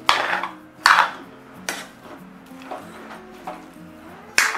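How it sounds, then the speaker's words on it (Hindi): Grated carrots being stirred and roasted in ghee in a pan for gajar halwa, a series of distinct spoon-on-pan knocks and scrapes spaced about a second apart, no voices. "लगातार चलाते हुए गाजर को घी में भूनेंगे"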